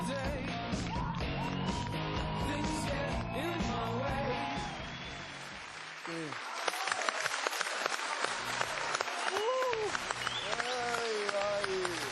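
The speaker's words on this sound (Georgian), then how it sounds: "აპლოდისმენტები დავით" An audience bursts into applause, with clapping and some cheering that swells in the second half, heard over music and voices in a lively show setting.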